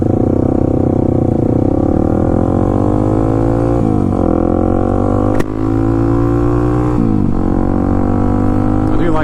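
A modded Kawasaki KLX300SM motorcycle accelerates hard, its engine note climbing steadily through gears with brief drops at shifts, loud and close with wind rumble.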